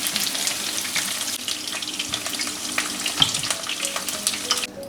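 Onion stir-fries in a little leftover oil in a wok while pork liver is being cooked, giving a close, steady crackling sizzle with scraping stirs that cuts off at the end.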